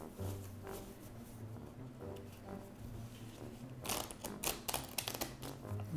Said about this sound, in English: I'm gonna give it a couple riffle shuffles so that way we know that it's really mixed up really nicely